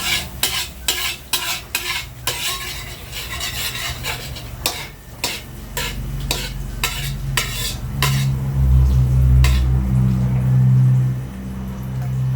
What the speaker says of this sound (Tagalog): Kaya natin mag-init ng butter. Ilagay natin yung bawang.